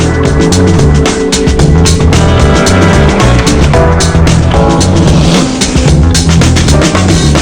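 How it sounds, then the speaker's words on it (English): An X Raid Mini rally car from 2013 drives hard through a gravel pit near Wiesbaden, Germany, with a loud, continuous engine roar that holds steady throughout and no pause. "Driving test in a gravel pit near Wiesbaden, Germany."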